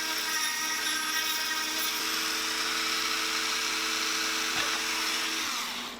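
A Dremel rotary tool widens small holes in a handmade hatchetfish lure with a continuous high whine that holds steady for several seconds and then fades at the end.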